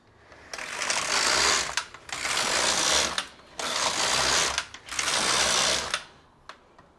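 Knitting machine carriage swept back and forth across the needle bed knitting rows for fingerless gloves, four loud rasping, whirring passes each lasting about a second with short pauses between, then a couple of faint clicks.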